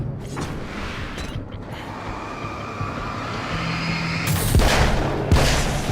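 Magnum handgun shots from the video game Alan Wake's American Nightmare sound as loud booming blasts over a rumbling game soundscape, with a strong burst near the end and no speech.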